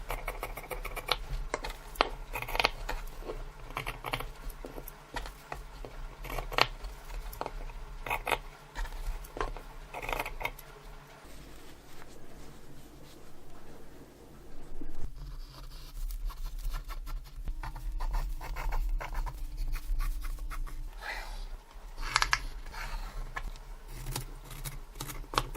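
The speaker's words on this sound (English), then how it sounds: "now I'm using them to draw the pockets to the fabric and then cutting out the pocket pieces." Fabric being cut into pocket pieces for a hanging bag made from scraps, with steady scissor snips, pattern handling and shuffling near at hand, and no talk.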